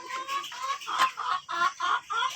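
Native village chickens (ayam kampung) cluck repeatedly just outside a bamboo and wood coop, a close, steady series of short clucks and calls with no talk.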